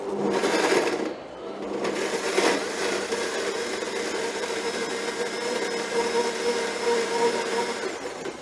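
A super blender runs steadily for the whole stretch, a loud, close, continuous motor whir with a brief change in pitch near the start.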